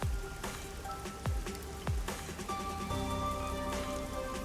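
Steady rain falls in the busy, neon-lit Kamasaki District of Kanai Ward in the game Rain Code Plus, a dense even patter of drops with a few sharper splashes and faint tonal hums beneath.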